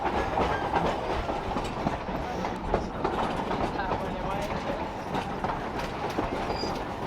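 The Durango & Silverton Railroad steam train rolls up the street into Silverton, a steady close rumble with clattering wheels running throughout.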